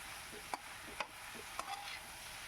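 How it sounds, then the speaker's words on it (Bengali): Ridge gourd and potato pieces frying lightly in oil in a pan, with a steady soft sizzle broken by three distinct scraping stirs of a spatula at even intervals. "ঝিঙেটা দিয়েও ভালো করে একটু হালকা ভাজা ভাজা করে নিচ্ছি"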